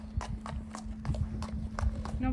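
Horse hooves stepping and crossing over on a surface during a physio assessment, a steady run of evenly spaced clip-clop footfalls close by, with a person talking and a steady hum in the background.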